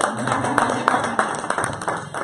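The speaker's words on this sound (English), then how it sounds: "Clap for me, Simona." A few people clap in a quick, fairly even rhythm, with sharp separate hand claps standing out above a murmur of background voices.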